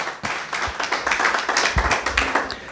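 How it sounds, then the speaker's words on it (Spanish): A church congregation claps along in an irregular, moderately loud patter of hand claps, with a few sharper individual claps standing out over a steady room wash. "Un aplauso a la palabra de Dios"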